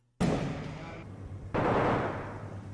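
Gunfire from AI soldiers blind firing around cover in a Fallujah urban combat video game, two sharp loud bursts with ringing decay, the second starting about a second and a half in.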